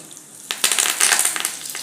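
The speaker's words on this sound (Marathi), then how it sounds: "आता याच्यात घालायचं आहे थोडंसं जिरं थोडा कढीपत्ता" Cumin and curry leaves dropped into a hot mustard-seed tempering for a chutney, a sudden loud burst of spitting sizzle after a quiet start, crackling sharply and briefly up close.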